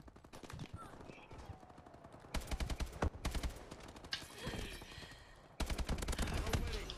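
Rapid machine-gun bursts and scattered gunshots in Call of Duty: Advanced Warfare multiplayer crackle in several loud volleys separated by brief pauses, with the surrounding din of a firefight.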